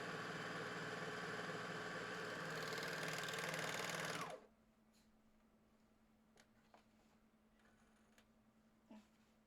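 A serger sewing machine runs loud and steady for about four seconds, its stitching hum rising slightly before it stops abruptly, leaving a faint low motor tone and quiet room noise.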